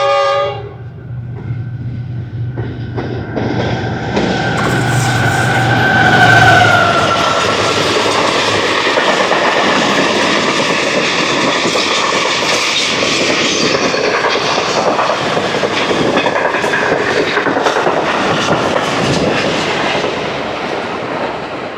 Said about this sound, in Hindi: GU4940 की लीड पर एक फ्रेट ट्रेन जमपीर स्टेशन से गुज़री